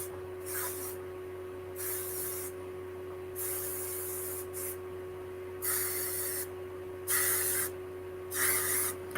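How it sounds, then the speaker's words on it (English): Perfect Hold hairspray is sprayed in a salon during a graduated haircut styling, about seven short hissing bursts of varying length, close and fairly loud over a steady background hum. "let me get my Perfect Hold hairspray."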